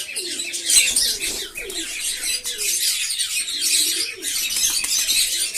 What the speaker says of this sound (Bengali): পাখিগুলো চেঁচায় প্রচুর